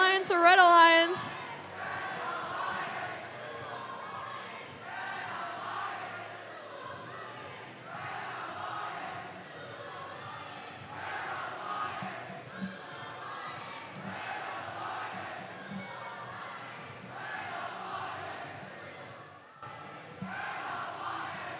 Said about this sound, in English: the Blue Alliance, Red Alliance cheer, one of my favorite